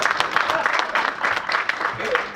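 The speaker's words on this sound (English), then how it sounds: "Applaud, please, because I can't see" An audience at a 2016 JFK assassination conference applauding, a dense, steady patter of many hands clapping at moderate volume in a hall.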